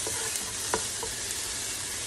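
Onions and tomatoes sautéing for fish curry give a continuous close sizzle with a few light stirring scrapes, heard on their own with no talking.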